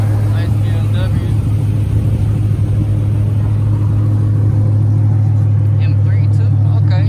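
A BMW M3 exhaust rumbles steadily close by, a deep continuous drone holding for several seconds with faint voices over it.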